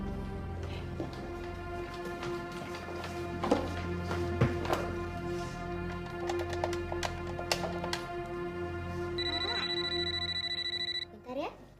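A telephone rings in a domestic TV drama scene, a steady repeating electronic ring running throughout over a dense music and ambient background, with no speech over it.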